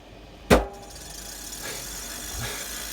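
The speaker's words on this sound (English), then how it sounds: "A wire just went and hit the fan right here" A wire strikes a spinning computer case fan, giving one sharp, close click against the constant hum of running fans.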